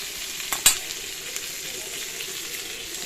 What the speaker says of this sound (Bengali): এদিকে দেখো তেল পটল ভাজা হয়ে গেছে।